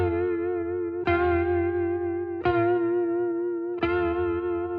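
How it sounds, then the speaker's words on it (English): An electric guitar run through a vibrato effects unit plays three sustained chords, each struck about every 1.4 seconds, with the pitch wavering steadily up and down as each one rings out, loud and close with no talk. "So this is what vibrato sounds like. So you can hear it's changing the pitch of a note."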